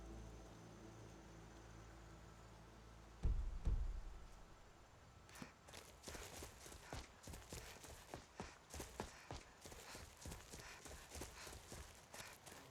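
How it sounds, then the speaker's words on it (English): In the video game Skyrim, after a low thump, a horse's hooves clip-clop in a steady walking rhythm, quiet and fairly close. "Horse steps are very loud."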